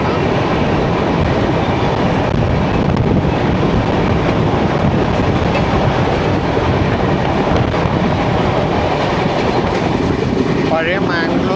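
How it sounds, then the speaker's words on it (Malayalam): A Murudeshwar–Kacheguda Express, formerly the Mangalore–Kacheguda, rushes past close by in one loud, steady roar of wheels and carriages, buffeted by wind noise, with a faint voice near the end. "ഇപ്പോൾ മുരുടേശ്വർ കാച്ചിഗുഡ എക്സ്പ്രസ് ആണ് പോയത്."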